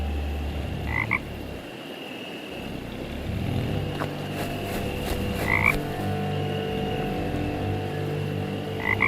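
A frog croaks steadily in a game scene, surrounded by continuous ambient hum and bursts of high chirps, with no voices.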